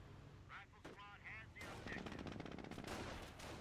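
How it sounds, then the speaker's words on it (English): Machine gun fire in the Company of Heroes real-time strategy game: rapid bursts of automatic fire mixed with other battle noise in a busy soundscape. "This machine gun right here has been dealing a lot of damage,"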